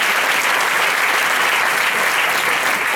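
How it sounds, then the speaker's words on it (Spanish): Loud, dense applause from a crowd at a Pilares 2024 Aragonese folk performance in Puerto de Sagunto, Valencia, honouring musician Luis, steady, close clapping with no break. "Luis, aplauso para Luis."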